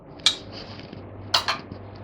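Spoon clinking against a bowl or pan while vanilla essence is stirred into cooled milk for caramel custard cake: a few sharp metallic taps, one alone then two close together, over quiet room tone.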